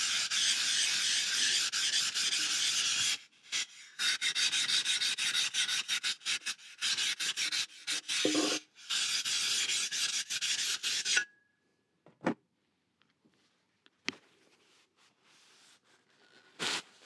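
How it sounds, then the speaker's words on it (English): A Stanley No.5 jack plane iron being honed on a fine oil stone wetted with mineral spirit makes steady, close rubbing strokes for about eleven seconds, then stops, leaving a few faint clicks and taps. "It's got some mineral spirit on a fine oil stone here, so we'll just put that over the surface just to remove any burrs on there."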